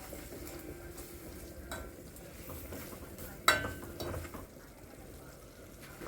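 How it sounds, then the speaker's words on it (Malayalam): A pan of spiced masala with chili powder, salt, turmeric and coriander powder is stirred, giving a quiet sizzle and soft scraping, with one sharp utensil clink against the pan midway. "നന്നായിട്ടൊന്ന് ഇളക്കി കൊടുക്കുന്നുണ്ട്."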